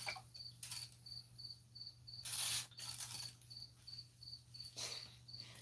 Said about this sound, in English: I can barely hear you because of crickets